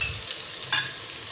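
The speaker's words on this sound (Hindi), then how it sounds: "इसको मसालों को जो है वो इसके साथ थोड़ा सा फ्राई करते हैं तली हुई प्याज के साथ" Spices frying with fried onions and ginger garlic paste for mutton yakhni pulao, a brief close sizzle with one quick scrape of stirring.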